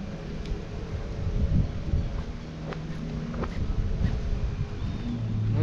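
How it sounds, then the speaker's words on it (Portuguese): Strong late-afternoon wind gusts across an outdoor fishing pond, a continuous low roaring buffet against the microphone with no talking. "Fim de tarde, agora começou a ventania."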